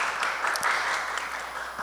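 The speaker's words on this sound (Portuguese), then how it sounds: "Uma salva de palmas para a Tati." A small audience at a talk on queer community and safe spaces claps for a guest in a short burst of fairly dense applause that stays steady throughout.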